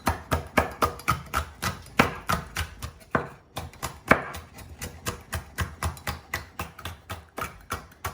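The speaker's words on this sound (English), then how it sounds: "Yeah, finish slicing the green capsicum." A knife slices green capsicum on a chopping board in a steady run of about twenty crisp, close chops, evenly paced with one brief pause.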